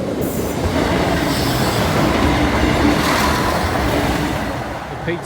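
A train passing Brayford level crossing, loud and close, with a continuous rumble of wheels on rails and faint squeals throughout, no voices.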